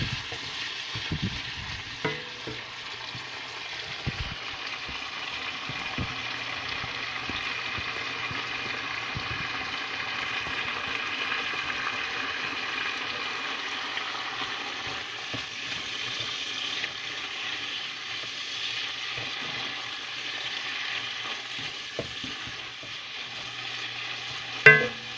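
Garlic scapes fry in a pan of oil with a steady, even sizzle. Occasional soft stirring clicks sound throughout, and a sharper clatter comes near the end.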